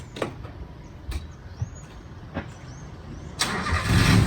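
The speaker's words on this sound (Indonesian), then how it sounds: "kita hidupkan mesinnya" A 1995 Toyota Kijang is cranked with a few scattered clicks, then the engine catches near the end and settles into a loud, close rumble.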